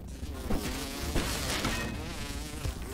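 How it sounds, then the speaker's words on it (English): Mosquitoes buzzing in the video game Grounded, a steady droning whine that stays fairly loud and continuous throughout, with wavering pitch as the insects close in, mixed with game background sounds and no talking. "Oh, I hear mosquitoes."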